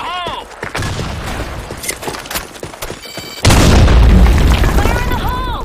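A grenade explodes on the Sand Storm map in Counter-Strike: a loud, sustained boom with rumbling debris that starts midway and carries to the end, following sharp gunshots and a voice announcing kills.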